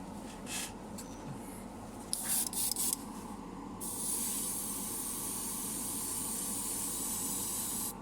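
Steady, close hiss of an airbrush spraying pre-thinned Zaku green lacquer paint, continuous for several seconds after a few short bursts at the start.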